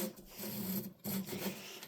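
A part is slid through a bore coated with lapping compound, producing a gritty rasping rub heard twice in short, close strokes.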